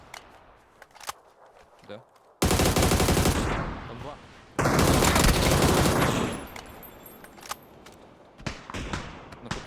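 Loud bursts of rapid automatic gunfire from an MG3 in PUBG dominate the middle of the clip, with scattered shots and occasional talk before and after.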